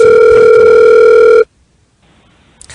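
A telephone dial tone, a loud steady hum that holds for about a second and a half and then cuts off abruptly into near silence with a faint line hiss.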